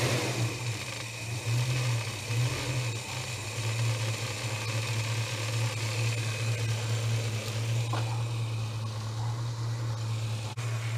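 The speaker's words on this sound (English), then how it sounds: "I'm just going to let the motor run, build itself up, back up to full pressure again" A Holden HK engine idles at a steady, even drone, a close and constant hum with a low rumble that holds without revving for the whole stretch. Nobody speaks.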